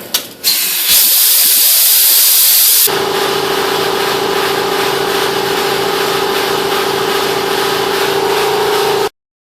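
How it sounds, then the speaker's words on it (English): A 3M bristle pad spun by a power tool, scrubbing leftover gasket material off an aluminum transfer case on a Silverado K1500: a brief louder burst, then a steady, even high whir that holds for several seconds before cutting off. "we're going to sand off the leftover gasket material, and I am not using a scratch pad, I am using a 3M bristle pad"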